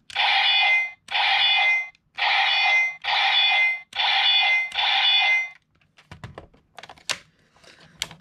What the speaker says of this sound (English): Pushing either trigger We'll get you a slashing noise.